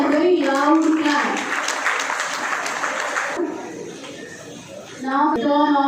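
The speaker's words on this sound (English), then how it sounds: "Let them appreciate with your continuous and very loud clap." Students at a school Independence Day celebration clap loudly and continuously for the HSC toppers, a dense wash of applause with children's voices calling out through it, briefly easing before swelling again.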